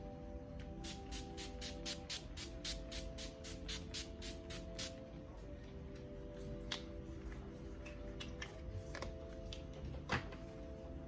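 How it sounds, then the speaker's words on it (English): Rapid run of short, soft pumps of NYX Dewy Finish setting spray, over a dozen in quick succession, over a steady low hum of background music. "Now I'm gonna take my NYX Dewy Finish Setting Spray."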